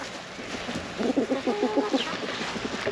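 Chickens cluck in a short burst of repeated calls on a farm homestead, close by and moderately loud over steady outdoor background noise.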